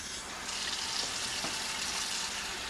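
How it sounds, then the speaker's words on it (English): Tap water runs steadily while meat is rinsed in a kitchen for piroshki, a faint, even hiss with no talking. "we're going to wash the meat first"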